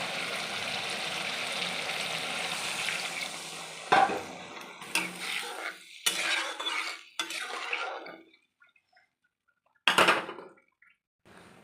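Water poured into a frying pan of chilli paneer, with a steady hiss and sizzle that fades into short clinks and scrapes of a spoon against the pan, then brief clatters near the end.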